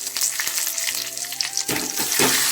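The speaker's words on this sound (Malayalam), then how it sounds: "ഇത്തിരി കരിവേപ്പിലയും കൂടി ചേർക്കാം." Curry leaves hit hot oil in a Kerala kitchen while making tamarind water curry, giving a steady close frying sizzle that jumps into a louder, crackling burst partway through, with no talking.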